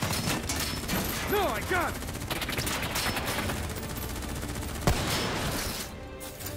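Rapid gunfire bursts in Call of Duty Black Ops 3 set in Singapore, dense crackling fire under shouted voices, with a single sharp loud shot near the end.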